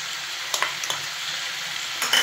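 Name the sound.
stirring and frying spring onions in a pan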